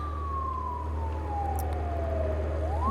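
A police siren in the BeamNG.drive driving game gives one long, slow descending wail that rises again at the end, heard over a constant low engine rumble.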